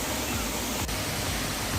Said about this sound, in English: Krang Shuri Waterfalls is simply breathtaking.